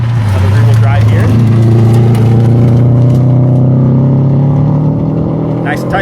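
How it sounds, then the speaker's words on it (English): A rear-wheel drive rally car revs steadily on a stage as it approaches and passes, its engine note rising, while a commentator talks over it throughout. "But we got another car coming up here. One Matt Weaver and RC Britt. Another rear-wheel drive here."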